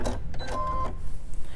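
A sewing machine back stitching fabric to lock a seam while making a microwavable popcorn bag, a short burst of rapid mechanical whirring and clicking, close and fairly loud.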